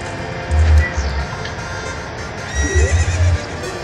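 A horse in the video game The Legend of Zelda: Ocarina of Time gives two loud whinnies, one early and one later, with a few hoof clops between them.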